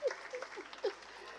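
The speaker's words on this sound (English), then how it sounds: "Please clap for Nigerian educational system." Brief burst of audience applause at an academic big data symposium at Unilag, faint and short-lived, with a few louder claps rising over a quiet room.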